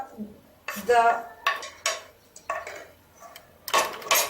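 A spoon mixing dry pakora spices, salt, garam masala and dried mint in a bowl, producing a series of rhythmic clinks and scrapes against the bowl, close and fairly quiet.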